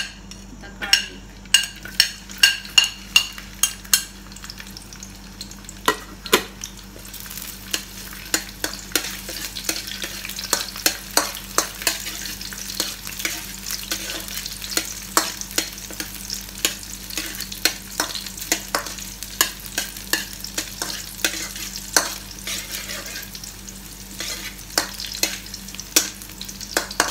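Garlic frying in a pan for pasta with sardines, a steady close sizzle broken by frequent sharp clicks and scrapes of a utensil stirring against the pan, loudest early on, with no talk.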